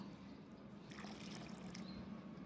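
Water trickles steadily onto dry potting soil around a moringa plant being repotted into a pot, a soft continuous pour with a slightly brighter splash in the middle, close by.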